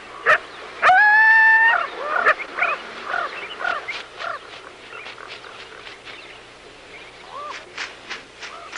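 A coyote vocalizes at close range, opening with a sustained rising howl, then giving a quick series of short yips, barks and whimpers of varying pitch, ending in a few sharper yelps.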